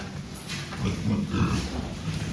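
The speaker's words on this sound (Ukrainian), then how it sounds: "Тут у нас має бути свинка, яка минулого разу з ним також зважувалась" A pig on a farm raised for fattening grunts and snuffles in a short burst of low, rough oinks, close by over a steady background hum, with no talk.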